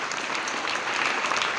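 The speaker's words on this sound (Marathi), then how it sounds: "सगळ्यात जास्त टाळ्या आपण वाजूया आपल्या 2 लाडक्या शिक्षिकांसाठी" A school audience claps for two teachers, a dense burst of applause from many hands that holds steady and fills the short moment without voices.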